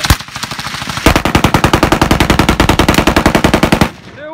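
A tiny machine gun fires one rapid, loud burst of evenly spaced shots lasting about three seconds, right after a sharp single crack, then stops abruptly into near silence.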